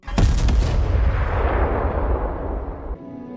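A loud, sudden explosion in an animated series booms, then a long roaring rumble slowly decays over a few seconds before cutting off.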